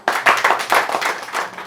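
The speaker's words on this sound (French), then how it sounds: "Mesdames et messieurs, on l'applaudit." Audience clapping at a press conference ahead of a royal gala, a close, dense burst of hand claps lasting under two seconds with no talk over it.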